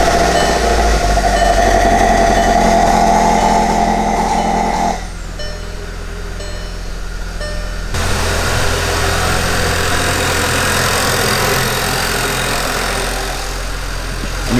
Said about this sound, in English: now I have to start the car and let it circulate with the water pump